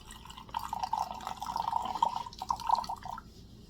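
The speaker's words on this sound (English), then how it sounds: "Baja Blast pour." Hard Mountain Dew Baja Blast poured into a cup, a steady trickling, dripping stream of liquid lasting a few seconds with small splashy bursts, close and moderately quiet.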